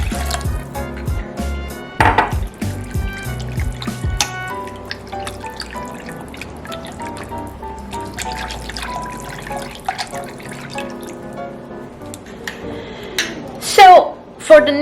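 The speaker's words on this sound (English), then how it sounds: "And now we can add the rest of the water." Water is poured into rice roll batter and mixed in a bowl, with trickling, dripping and clinking of utensils against the dish while a person talks over it.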